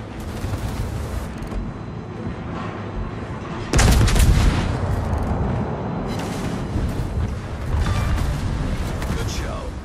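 Gunfire and a loud burst as an enemy destroyer blows up in the naval combat game World of Warships, with a sudden booming blast near the middle over continuous battle rumble, and a voice talking at points.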